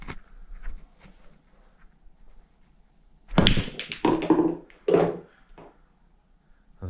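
Break shot with a cheap wooden pool cue on a small 5ft pool table: a sharp crack at the break followed by a flurry of clacking and thudding balls scattering and knocking the rails, then quiet.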